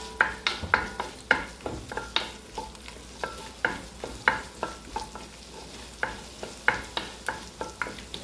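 Chopped red onion sautés in butter with a quiet sizzle, broken by regular rhythmic scrapes of a utensil stirring it around the pan, close by.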